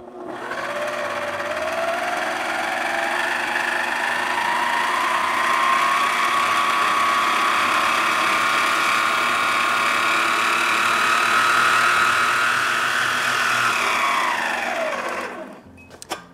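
An electric mixer beating Harvey Wallbanger cake batter, a steady, close motor whine that rises as it spins up, holds for a long stretch, then winds down and stops, with no talking.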